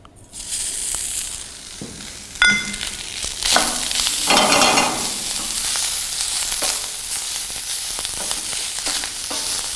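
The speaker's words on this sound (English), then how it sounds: "Now I will just add this rice to the pan" Rice is poured into a pan of melted butter with a sudden bright sizzle, then stirred, producing continuous hissing frying sounds with scraping textures that stay loud and close throughout.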